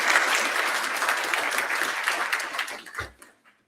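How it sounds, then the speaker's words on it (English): Applause from an audience at a mayor's State of the City address, a dense steady wash of clapping lasting about three seconds before tapering off into a short fade and near silence. "if we could give her a round of applause in her last one"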